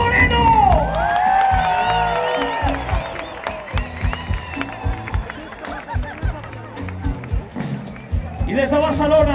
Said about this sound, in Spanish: Por favor, fuerte aplauso, Arturo Moreno